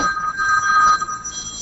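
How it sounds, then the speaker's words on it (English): A telephone rings in an office with a steady electronic warble that repeats in short bursts, set against low room noise and no speech. "That's your phone ringing?"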